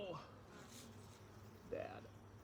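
Honeybees buzz around an open hive during a summer hive inspection, a quiet steady hum under the scene with a brief louder swell as one passes near, alongside faint talk.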